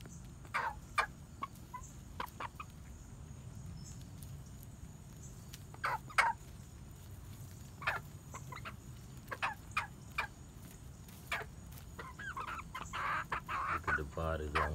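Gamefowl hens of a three-quarter Sweater, one-quarter Kelso cross make scattered short clucks and calls on a farm, with soft background noise between the sparse bursts.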